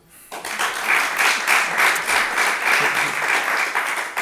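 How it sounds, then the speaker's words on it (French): Sustained audience applause at a French podcast recording, a dense wash of many clapping hands rising quickly after a quiet start and holding steady and loud throughout. "Et encore un petit peu d'applaudissements pour Jérôme."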